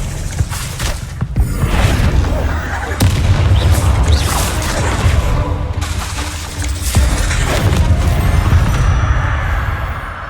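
Blasting curse explosions in the Hogwarts Legacy PC game, loud repeated booms with shattering crashes and thuds in dense, continuous battle noise.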